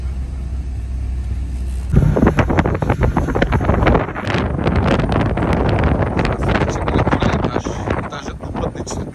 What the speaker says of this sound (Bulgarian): Влязохме в ферибота.